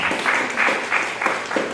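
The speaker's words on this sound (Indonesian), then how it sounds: "Tepukan yang meriah untuk diri." Applause from a church congregation during a miracle prayer service, a short burst of steady, loud clapping from many hands.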